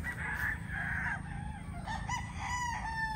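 Chickens at a chicken farm: roosters crow in drawn-out calls and hens cluck over a constant low background murmur of the flock, moderately loud and close, with no talking.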